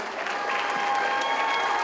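A crowd at a children's singing contest applauds the second-place singer, Rania Zaripova. Steady, dense clapping fills the whole stretch without a break.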